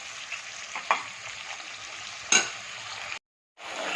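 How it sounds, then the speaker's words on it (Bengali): Spice paste frying in a pan with a splash of water, a continuous hiss with two sharp spatula scrapes, cut by a brief moment of silence near the end. "মশলার বাটি ধোয়ার জল একটু দিয়ে আবারও ভালো করে 2 মিনিট মতন সুন্দর করে কষিয়ে নেব"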